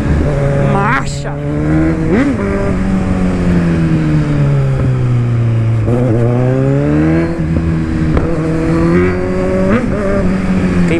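Kawasaki Z1000 motorcycle accelerating with a slipping clutch, engine pitch sweeping up and down loudly and close through several rising pulls, a voice speaking over it.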